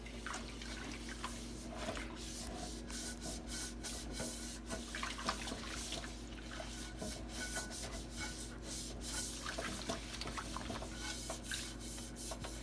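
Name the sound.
scrubbing a wet dish with a scrub brush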